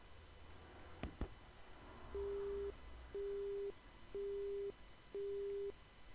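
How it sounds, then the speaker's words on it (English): A phone busy signal ends a call: four steady, evenly spaced beeps repeat at a faint, low level over quiet background hiss, after a couple of short clicks, with no voices. "The phone is repeating a boring beeping sound."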